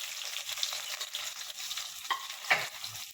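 Cumin and onion sizzle steadily as they fry in a pan for an Odia-style chicken kasa, with a close, continuous hiss broken by a few stirring scrapes.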